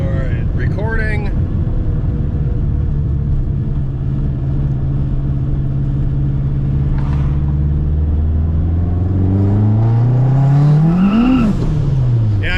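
AWD K-swapped turbocharged Honda Civic doing a street pull: steady loud engine drone that climbs sharply in pitch near the end as it revs hard, then drops off, with a voice talking briefly.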